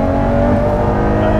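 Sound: Ferrari sports car engine revving

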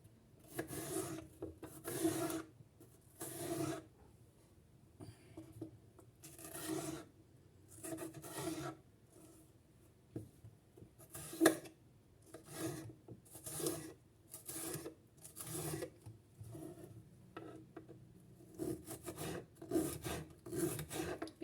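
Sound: knife thinly slicing kapya red pepper

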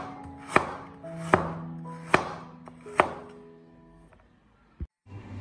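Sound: knife chopping fresh ginger into thick slices

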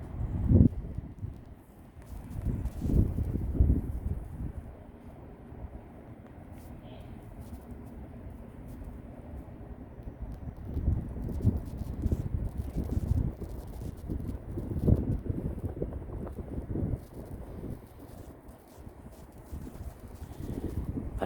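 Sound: strong wind blowing outdoors

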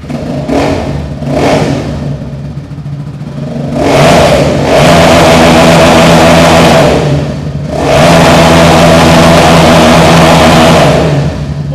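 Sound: sports bike engine revving with stock exhaust

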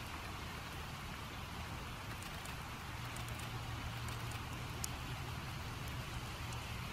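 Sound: rain in the video game Project Zomboid

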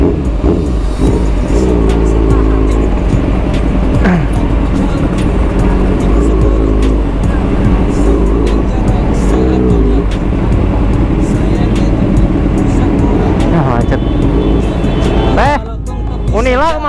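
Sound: cars in a traffic jam

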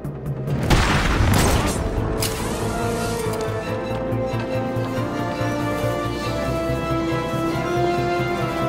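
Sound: grenade explosion in video game Batman Arkham City

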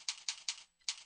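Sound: typing a search keyword on a computer keyboard

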